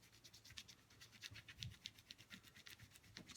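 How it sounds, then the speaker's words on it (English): Crayon rubbed back and forth over paper laid on an object such as a key, giving quiet, repeated scratchy strokes in an irregular rhythm. "you're going to take your crayon, and you're going to take it and rub the whole"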